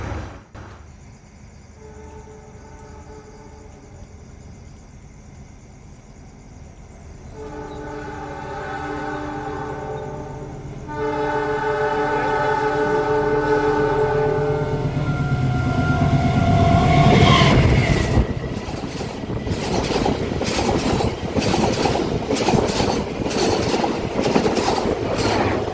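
A passenger train, the KA Kahuripan service, rolls through Bojong station in a long loud pass, with a sustained horn tone and the rising rumble and clatter of wagons.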